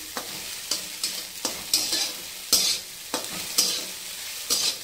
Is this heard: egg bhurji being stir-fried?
yes